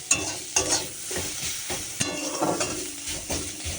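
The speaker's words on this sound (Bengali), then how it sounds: "যে কড়াইতে পেঁয়াজটা লাল লাল করে ভেজে নিচ্ছি" Onions sizzle steadily in a hot wok as they are fried until reddish brown, with scraping stirs and occasional light clinks of a utensil against the pan, close and clear.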